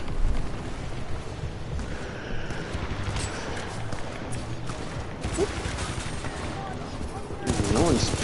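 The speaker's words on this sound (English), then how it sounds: "Oh shit, grenade." Gunfire crackles through a busy Titanfall 2 firefight, with steady machine-gun bursts and a rumbling grenade blast, moderately loud and mixed with game noise and brief voices near the end.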